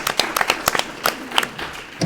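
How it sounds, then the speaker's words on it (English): A small audience at a reading symposium panel discussion claps for the panelists, a brief burst of scattered, close hand claps without any talking. "I just want to give all of you a round of applause"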